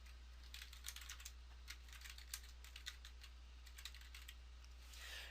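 Typing on a computer keyboard while entering HTML paragraph tags in web design software: a steady run of light, irregular key clicks over a constant low electrical hum, with no talking.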